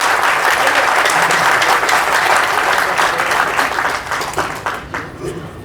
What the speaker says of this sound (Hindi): मैं आग्रह करता हूं कि एक बार जोरदार ताली